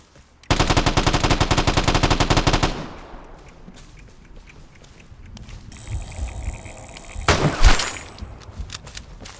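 Automatic gunfire in the Xbox One game Vigor: a loud, rapid burst of shots lasting about two seconds, followed by quieter rumbling and one more sharp report.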